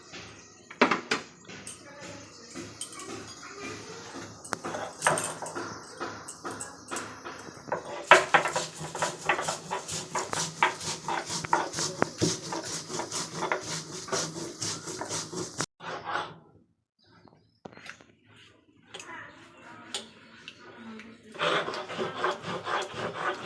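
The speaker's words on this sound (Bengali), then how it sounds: "জিরা আর পেঁয়াজ একসাথে বেটে নেব।" Cumin and onion ground together on a stone grinding slab make a steady rubbing, rasping scrape with rhythmic strokes, close and moderately loud, pausing briefly before resuming.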